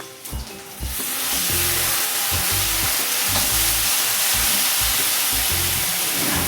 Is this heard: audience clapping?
no